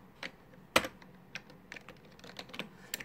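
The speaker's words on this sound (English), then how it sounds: "This angle is really not optimal for typing." Scattered clicks of typing on a computer keyboard come at an uneven, slow pace, with one louder keystroke standing out, in a quiet room with no speech.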